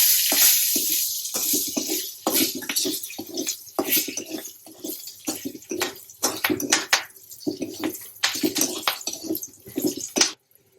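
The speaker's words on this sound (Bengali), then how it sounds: "কয়টা কাঁচা লঙ্কা ভেজে নেব।" Green chilies crackle and sizzle as they fry in a pan, busy spitting pops and bursts running steadily near the mic, with a few stirring clatters.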